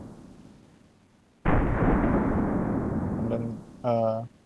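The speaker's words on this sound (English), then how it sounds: "The firing pin gonna hit the primer of the .44 Magnum. The round is fire" A single Desert Eagle .44 Magnum pistol shot erupts suddenly as a loud, broadband blast and hangs for about two seconds before fading, followed by a short, tonal burst.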